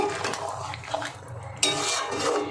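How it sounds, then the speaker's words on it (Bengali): Potato and paneer masala curry with ghee being stirred in a pan: a few close metallic clinks and scrapes of a spoon against the pan over a soft background, with one sharper knock partway through and no voices. "এবার মিশিয়ে দেব"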